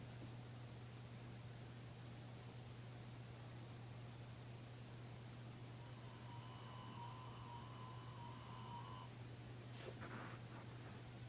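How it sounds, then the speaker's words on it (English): Steady hiss like TV static fills the whole stretch evenly over a low constant hum, with a faint sustained tone drifting in partway through and a few soft rustles near the end; no voices. "a sound, like the white noise on a TV"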